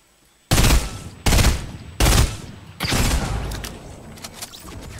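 Four loud, close gunshots from a pump shotgun in the video game Fortnite, evenly spaced booming blasts, the last one trailing into rumbling game noise.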